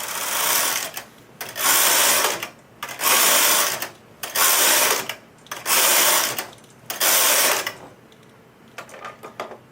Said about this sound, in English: So I'm going to go ahead and thread the carriage and knit 6 rows.